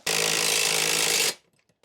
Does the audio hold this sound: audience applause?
no